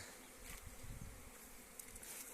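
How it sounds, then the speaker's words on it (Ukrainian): Honeybees buzz softly and steadily in a low continuous hum at an apiary in spring, faint and close, with no voices. "пилок іде, бджола гуде."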